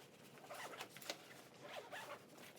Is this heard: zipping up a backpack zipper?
yes